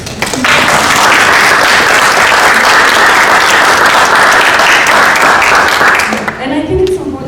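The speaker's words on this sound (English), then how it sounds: "I would actually like to invite us to clap for the guests" An audience applauds panel guests at a dance history author event, dense steady clapping filling the room for about six seconds before tapering off, with faint voices emerging at the end.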